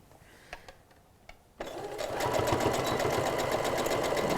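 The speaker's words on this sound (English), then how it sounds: "I'm stitching on the same line I stitched earlier." A few soft clicks and handling sounds, then a sewing machine starts and runs steadily, stitching a fabric surgical mask along a previously sewn line with a fast, even mechanical whir.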